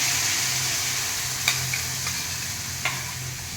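Okra cooking with ground coconut paste in a pan gives a steady close sizzle, with a few distinct clicks of a spoon against the pan as it is stirred.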